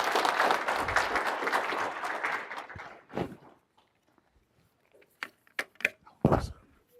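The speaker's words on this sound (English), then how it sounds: "Can we give another round of applause for Dr. Shorty, please?" Applause from a lecture audience, dense and sustained for about three seconds before thinning to scattered claps and a few last bursts near the end.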